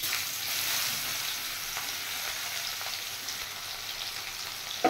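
Chopped onion hits hot oil already holding whole dried red chillies, bay leaf and cumin seeds, giving a steady, close, dense sizzle with no talking and a faint clink at the very end.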